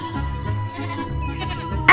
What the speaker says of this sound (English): And we've got sheep, goats.